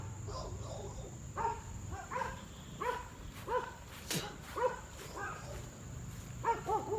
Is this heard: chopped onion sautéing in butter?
no